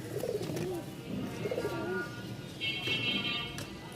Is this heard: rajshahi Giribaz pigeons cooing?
yes